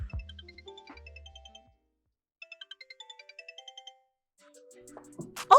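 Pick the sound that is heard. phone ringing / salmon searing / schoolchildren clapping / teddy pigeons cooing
phone ringing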